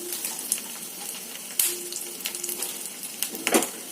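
Almonds, melon seeds, pumpkin seeds and sunflower seeds frying together in a hot pan, with a steady crackling sizzle and a few louder pops and spatters near the end.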